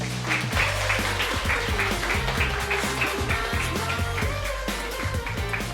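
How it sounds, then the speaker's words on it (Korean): An audience at a Korean career-talk lecture event claps steadily to welcome a company co-CEO to the stage, a dense, sustained round of applause lasting several seconds. "반갑게 박수로 맞아주세요."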